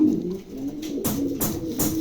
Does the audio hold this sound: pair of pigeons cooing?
yes